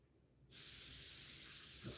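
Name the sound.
airbrush spraying paint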